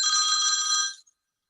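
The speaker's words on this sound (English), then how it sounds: "Answer the phone." A telephone rings in one steady electronic burst of bright, buzzing tones lasting about a second, then cuts off into silence.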